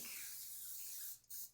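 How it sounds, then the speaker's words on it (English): A spray bottle misting bread dough during baking, one soft continuous hiss lasting about a second, then a quick second puff, faint and close with no talk. "I'm just gonna spray this, I think."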